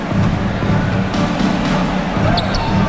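Basketball layup in NBA 2K25, Minnesota Timberwolves versus Toronto Raptors on PS5: a few ball bounces and squeaky court action ring out over a steady, loud arena crowd roar.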